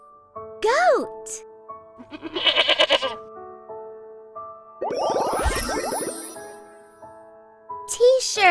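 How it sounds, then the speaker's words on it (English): A goat bleats in short, wavering cries, loud and close, interleaved with a child's and an adult's voice speaking between the calls. "Goat."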